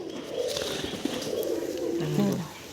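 Several pigeons coo in a loft of homing and racing birds, low rolling coos overlapping at close range, with a louder, steadier coo near the end and steady background noise throughout.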